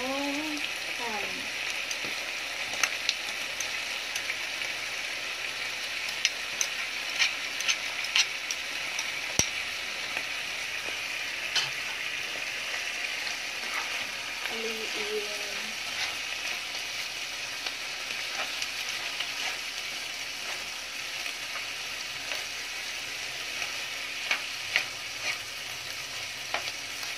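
Mushroom and ham frying in a pan for a creamy carbonara, a steady close sizzle with scattered pops and crackles and occasional stirring scrapes throughout, no one speaking.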